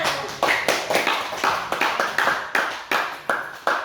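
Classroom of students clapping hands in a quick, slightly uneven rhythm, each burst of claps rising and decaying in a regular pattern, fairly close and loud.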